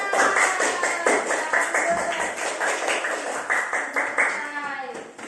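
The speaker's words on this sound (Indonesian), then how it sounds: "Oke, tepuk tangan." A class of students claps in a classroom, the claps landing in a quick, regular rhythm with voices chanting and talking over them.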